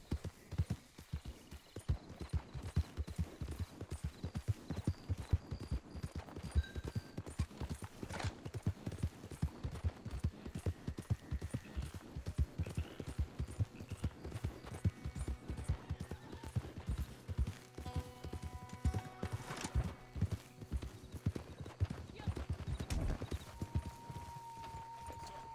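Steady clip-clop of horse hooves striking a bridge in Red Dead Online, a continuous close rhythmic trot running throughout with faint game sounds beneath.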